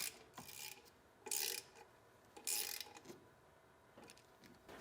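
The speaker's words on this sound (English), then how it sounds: "go ahead and torque down the upper runner to plenum bolts" A ratchet wrench tightens the upper runner-to-plenum bolts on a TPI engine, giving several bursts of close, raspy clicking separated by short pauses.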